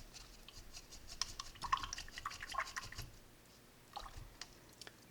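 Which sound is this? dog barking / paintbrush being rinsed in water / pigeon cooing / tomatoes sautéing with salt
paintbrush being rinsed in water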